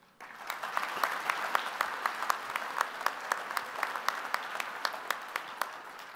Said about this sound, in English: I would like a round of applause for the Delaware Military Academy that did that great rendition